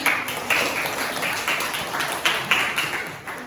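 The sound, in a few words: classroom applause for group 2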